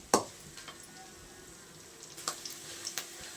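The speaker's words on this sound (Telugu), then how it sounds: "లైట్ బ్రౌన్ కలర్ వచ్చేంత వరకు వేయించుకోవాలి" Onions frying in a pan until light brown, with a faint, quiet sizzle punctuated by a sharp close utensil knock at the start and a few lighter taps later on.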